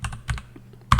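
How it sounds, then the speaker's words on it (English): Quick keystrokes on a computer keyboard as a short terminal command is typed, a few close, crisp clacks in two small bursts and then a final louder tap. "Just type HTOP."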